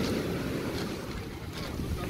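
Stormy Black Sea surf breaking on the Olympic Park beach in Sochi, a steady, loud wash of crashing waves with heavy wind buffeting the microphone throughout, no voices.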